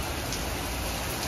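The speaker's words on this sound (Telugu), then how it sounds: "హెవీగా వర్షం పడుతుంది అనమాట" Heavy rain falling outdoors in Madagascar, a dense, steady hiss of downpour filling the whole short stretch without break, close and loud, with no voices.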